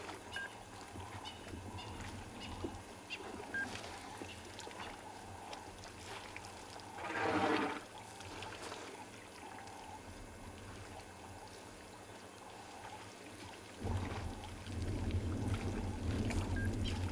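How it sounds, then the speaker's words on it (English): Elephants drinking at a waterhole at sunset on a safari reserve, soft splashing and sloshing water with a louder surge partway through and another near the end, over quiet outdoor ambience. "you'll be able to hear the water as they drink."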